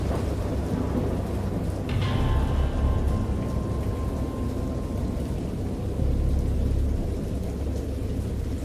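Video game thunderstorm: steady heavy rain pours throughout while a deep thunder rumble swells and rolls, with a brief crack near the start; loud, continuous storm ambience.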